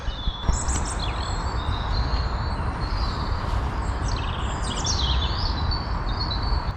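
Woodland birdsong with robins and crows, heard on a muddy mountain bike ride; busy chirps and calls sit high over a steady, rough rumble of outdoor noise for the whole stretch.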